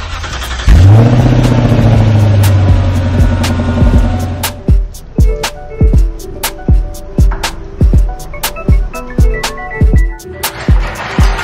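An Infiniti QX70 SUV starts up close by with a deep engine roar that rises, then rolls slowly into a garage with a steady low idle, punctuated by a series of sharp clicks and ticks.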